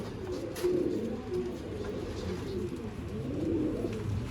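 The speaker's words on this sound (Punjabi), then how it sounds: "ਪਿਓਰਟੀ ਚ ਫਿਰੋਜ਼ਪੁਰੀ ਔਰ ਬਾਂਕੇ ਕਬੂਤਰ।" Ferozpuri and Banke pigeons coo softly in low, repeated rolling calls against a steady background hum, with no talking.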